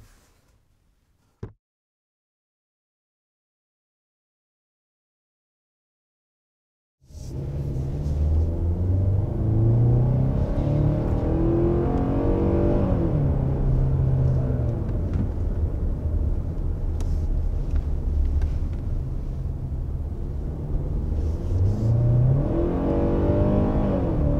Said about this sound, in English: So there's some accelerations in this Santa Fe XRT.